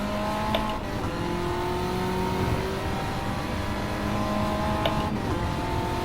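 A front-wheel-drive race car in Gran Turismo 7 holds a steady, droning engine note at moderate pitch, rising and shifting slightly while cornering, with continuous tire and road noise and no voices.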